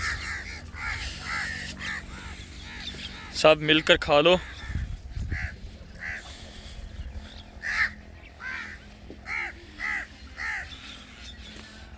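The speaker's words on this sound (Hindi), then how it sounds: "लेकिन यहाँ पर कवे भी बहुत सारे जमा हो गए।" Many crows gather around scattered food in a village in the morning, cawing repeatedly at varied distances with harsh, rhythmic calls and a brief flurry of louder calls and flapping, while a person speaks briefly.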